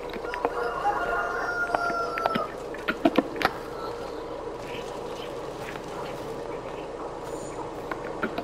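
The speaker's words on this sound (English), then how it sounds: "Cute little chickens. Noisy little things." Chickens cluck and a rooster crows in a Farming Simulator 22 farmyard, a dense layer of fowl calls running throughout over steady background ambience, with a few brief clanks near the middle.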